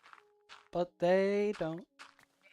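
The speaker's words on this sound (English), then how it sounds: "The sheep are running around like they own the place" A sheep bleating in Minecraft: a few close, clear baa calls, one longer wavering bleat framed by shorter ones, with quiet gaps between and no speech.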